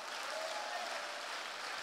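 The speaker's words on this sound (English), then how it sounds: "Give the Lord a big hand clap." A church congregation claps for the Lord, a dense, steady burst of applause from many hands, moderately distant in a large room.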